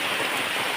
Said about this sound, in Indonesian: sekarang nih sudah hujan banget ya, hujan besar